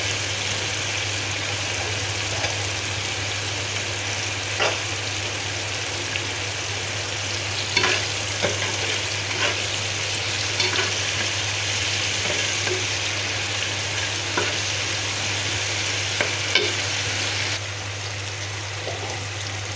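Steady sizzling and crackling of ground chili paste frying in a hot pan, with occasional clinks of a utensil stirring, no voices.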